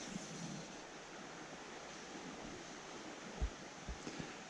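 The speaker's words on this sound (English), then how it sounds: "A nasty downstream wind today, which isn't helping." A steady downstream wind rushes beside a river on the Upper Teign in Devon, a constant broadband roar with a few low buffeting gusts against the microphone near the end.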